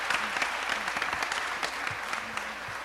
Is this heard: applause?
yes